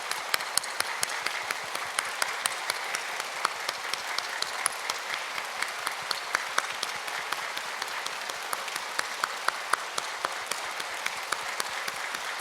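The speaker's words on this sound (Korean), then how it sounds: "박수를 힘껏 손이 빨갛도록 치는 겁니다." A church congregation claps steadily and continuously at a Christmas service, a dense patter of many hands filling the room at an even volume throughout.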